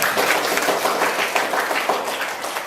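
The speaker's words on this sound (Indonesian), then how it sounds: "Kita berikan aplaus dulu" A classroom audience applauds steadily for about three seconds, a dense wash of clapping at a constant level with no speech over it.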